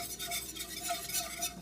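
A whisk scrapes and stirs a roux in a pan with a steady, rhythmic swishing, close up and moderately loud, with faint metallic clicks against the pan and no voices.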